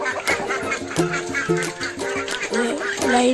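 A group of ducklings quacks and peeps continuously, close by, with faint voices in the background.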